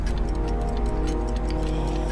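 A clock ticks steadily in a quiet room, its regular tick-tock pulses running evenly over a low background hum, close and clear with no talk.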